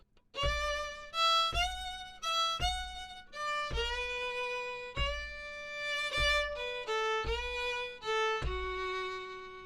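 A solo fiddle melody with steady notes and gentle vibrato, played alone at moderate volume with clear separate bow strokes.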